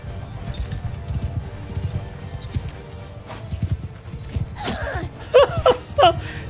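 Horse hooves clip-clop steadily in a Mount & Blade II Bannerlord battle, a quick rhythmic run of hoofbeats mid-distance, with a few brief sharper battle sounds near the end.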